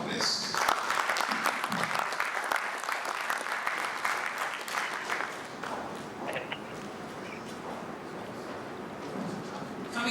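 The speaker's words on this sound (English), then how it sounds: "Can we give him a round of applause as he makes his way back to his seat?" A crowd applauds steadily at the Polaris Bank launch event unveiling VULTe, with loud, dense clapping that fills the room throughout and some voices mixed in.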